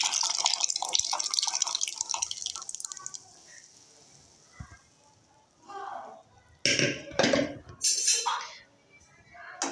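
Boiled dal pours into a pan of roasted spices and cooked vegetables for Rajasthani panchmel dal. A hissing sizzle fades, then wet splashing, sloshing and spoon clinks come in uneven bursts close by, with speech at times.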